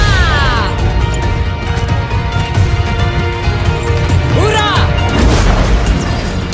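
Zarya's Expulsion Zone bomb landing in Heroes of the Storm, a loud crashing impact followed by a pulsing, whooshing energy field, with a narrating voice throughout.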